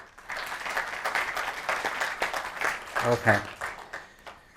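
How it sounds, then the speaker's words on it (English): A conference audience at the Pride of Nation Awards 2022 applauds with a steady, moderate clatter, while someone speaks briefly over it. "Can I have a big round of applause for these people?"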